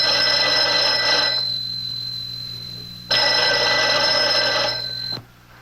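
An old-style telephone bell rings twice, each long metallic ring lasting over a second with a pause between, close and clear.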